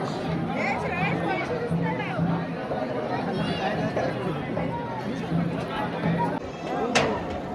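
A dense crowd of worshippers murmurs and chatters at Jyotiba temple in Kolhapur, a steady close hubbub of many overlapping voices with footsteps and a brief bump near the end.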